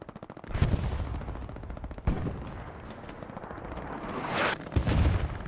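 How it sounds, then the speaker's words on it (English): Smoke artillery barrage in Hell Let Loose, heavy impacts and thuds landing amid rapid distant gunfire, with a few louder booms spread across the stretch. "Smoke artillery coming down."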